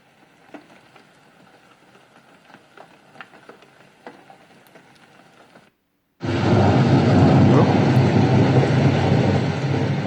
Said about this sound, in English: that's the intense thunder I was promising earlier